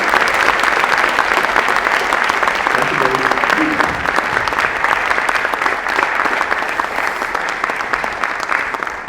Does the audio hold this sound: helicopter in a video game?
no